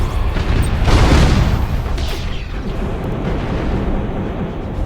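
Ship bombardment explosions in the space battle game Battlefleet Gothic Armada form a loud, continuous rumbling barrage, swelling in the first two seconds and then holding as a dense roar of blasts.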